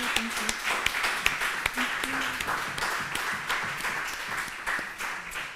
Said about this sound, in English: But now another warm applause for Rafaela and your wonderful presentation.